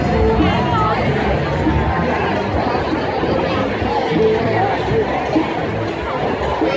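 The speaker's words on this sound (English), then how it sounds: "A very spirited crowd" Spirited crowd of marchers filling a Phoenix street, a steady babble of many voices chattering and calling out at moderate distance, continuous with no single speaker standing out.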